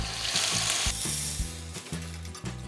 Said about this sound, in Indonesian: sekarang saya mau masukkan santan secukupnya saja